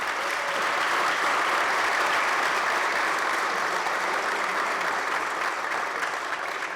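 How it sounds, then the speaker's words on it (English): An audience at a New York State Senate budget event gives Senator Kathy Young a round of applause, a steady wash of clapping lasting several seconds, moderately loud and even without speech. "Give her a round of applause"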